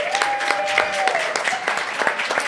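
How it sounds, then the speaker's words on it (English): An audience applauds a live band at a bourbon-themed event, brisk scattered clapping with a few cheers, while a sustained tone and some voices run underneath. "Everybody applaud the band."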